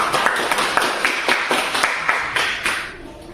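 A classroom group claps together after a student presentation, a dense run of applause with regular hand-slap peaks that fades out near the end.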